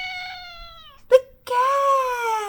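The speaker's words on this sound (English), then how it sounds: "The cat makes the meow sound." A domestic cat lets out two clear meows, the first a falling mew and the second a longer, louder wail, separated by a brief sharp burst, in otherwise quiet surroundings.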